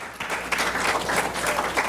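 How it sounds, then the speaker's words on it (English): A church congregation at a Pentecostal service claps steadily together, a dense continuous burst of applause filling the room for about two seconds with no speech over it. "Clap on the Lord one more time."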